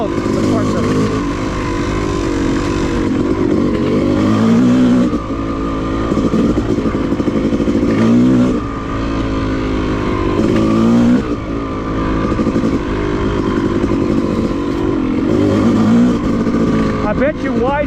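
Yamaha YZ250 two-stroke dirt bike riding a woods trail with whoops, its engine loud and close throughout, revs rising and falling steadily as it climbs and drops over bumps, with a person talking over the engine.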